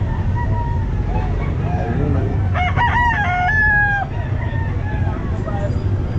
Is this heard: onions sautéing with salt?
no